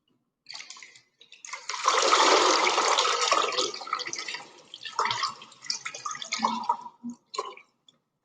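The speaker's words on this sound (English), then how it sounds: "And then squeeze out any excess water." Water splashing and dripping as wet fabric is squeezed out over plastic sheeting, a dense wet gush followed by scattered trickles and drips, close and fairly loud.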